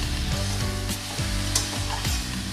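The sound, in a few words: stirring radish and prawn curry in pan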